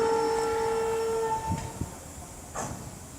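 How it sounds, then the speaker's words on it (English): A Freightliner Class 66 freight train arrives at Nuneaton station: a sustained horn-like tone fades out, followed by low rumbling and faint hissing from the approaching locomotive. "there's a Freightliner 6-6 coming in"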